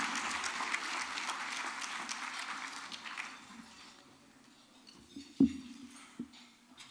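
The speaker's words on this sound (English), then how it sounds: "A big round of applause" Applause from an audience at a South Florida Muslim community gathering, a broad crackle that fades over a few seconds and leaves a low murmur, with a few isolated thumps afterward.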